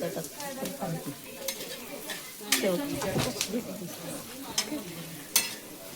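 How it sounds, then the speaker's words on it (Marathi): Onion and chillies roasting in oil in a pan for Maharashtrian kharda, with steady sizzling under repeated stirring scrapes and a few sharp clinks of the spoon against the pan. "आता कांदा भाजते"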